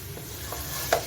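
Okra stirred into a chicken and spice masala in a pot, a soft scraping stir with a faint sizzle and one sharper spoon knock near the end of a short moment.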